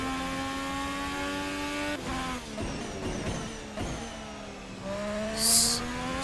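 A racing video game car engine howls steadily at the Bahrain circuit, then drops as the car brakes and rises again as it accelerates out of the corner, with a brief high hiss near the end.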